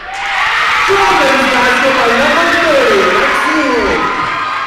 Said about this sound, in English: by that roar of the crowd